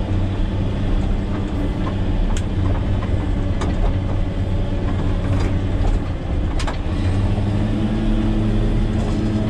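A Caterpillar 120K motor grader working on a sloped dirt road, its engine a loud continuous diesel rumble close by with a few metallic clanks over the steady drone.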